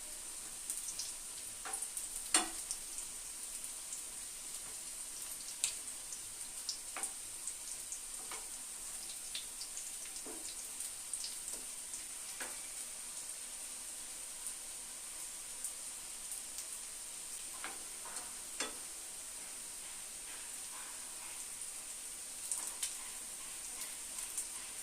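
Flattened-rice (chira) chops frying slowly in hot oil give a steady, quiet sizzle with soft scattered pops and crackles throughout, no talking.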